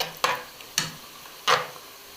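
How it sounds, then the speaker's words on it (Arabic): Small pieces of luncheon meat stir-fried in a pan, three separate scraping stirs over a soft, continuous sizzle, with no talking. "وقطعنا اللانشون حتت صغيرة خالص، قلبناها تاخد تشويحة"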